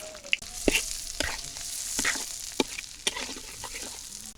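Chopped onion and green chillies frying in hot oil in a pan, a close, crackling sizzle with sharp pops and scraping stir strokes at irregular intervals.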